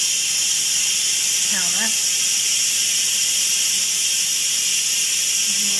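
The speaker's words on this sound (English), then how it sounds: "And we'll just wait for the steam to completely release." Steam hissing from the quick release valve of an Instant Pot cooking chicken tortilla soup, a loud continuous jet of hiss throughout, with a brief word spoken over it.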